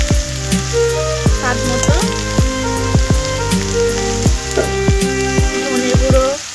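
Vegetables for vegetable chop sizzle loudly in a hot oiled pan, a constant crackling fry broken by repeated scraping stirs of a spatula against the metal, with brief talking.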